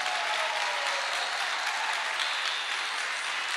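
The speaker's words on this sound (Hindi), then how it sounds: "अब तालियां कैसी बजनी चाहिए," Sustained audience applause at a business seminar, a dense even wash of clapping from a large crowd with no pause, loud and continuous for several seconds.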